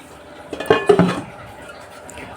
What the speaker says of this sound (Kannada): ಲಿಡ್ನ ಕ್ಲೋಸ್ ಮಾಡ್ತಾ ಇದ್ದೀನಿ.